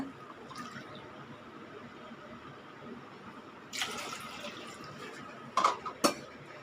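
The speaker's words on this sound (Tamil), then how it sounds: "அதே கப்பில் ஒரு ரெண்டு கப்பு தண்ணி விட்டுக்கோங்க" Water poured from a cup into a steel vessel of washed moong dal in a home kitchen, a faint running splash with a few metallic clinks of utensils near the end.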